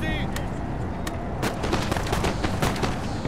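Musket gunfire in the Napoleon: Total War video game, with several sharp shots popping in irregular succession over a dense battle rumble, loud and continuous throughout.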